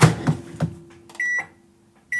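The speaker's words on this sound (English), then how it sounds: "put my stick of butter in the microwave." A microwave oven hums steadily as it melts a stick of butter, its low drone running under a few kitchen clatters, then two bright electronic beeps ring out near the end.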